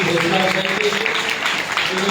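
A church congregation applauds in a steady, dense burst of clapping that fills the space, with a voice talking over it throughout.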